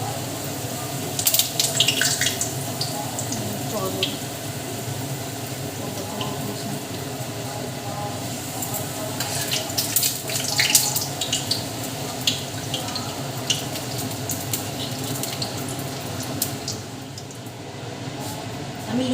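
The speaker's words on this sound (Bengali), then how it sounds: "কড়াতে তেল এসে গেছে, এবার আমি লুচি দিয়ে দিচ্ছি।" Luchi, puffed flatbread, fry in hot oil in a wok, giving a continuous bubbling hiss at moderate level with scattered crackling bursts throughout.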